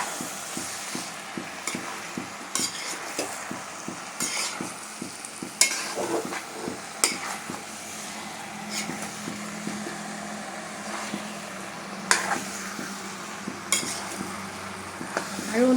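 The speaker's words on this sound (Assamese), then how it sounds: "আৰু অলপ সময় এনেকৈ ফ্ৰাই কৰিব লাগিব" Jackfruit masala sizzling in a pan while being stirred, with a constant close frying hiss and repeated scraping strokes of the spoon against the pan in a loose rhythm, with no voices.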